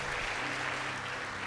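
A church congregation claps together during a worship service, a continuous wash of applause at even, moderate volume from start to finish.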